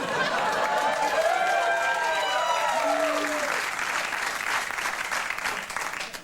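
Audience applause at a live show: a dense, steady wash of clapping throughout, with a voice and a short sliding whistle-like tone audible over it before the clapping thins slightly toward the end.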